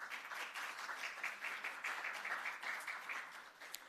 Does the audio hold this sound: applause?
yes